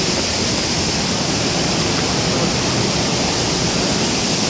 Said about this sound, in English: Look how the water is flowing.